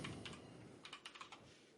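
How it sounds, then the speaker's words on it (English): A clicky mechanical computer keyboard is typed on in a quick run of sharp close keystrokes, faint at first and then a crisp burst of clacks toward the end. "With my clicky clacky keyboard. It is clicky clacky."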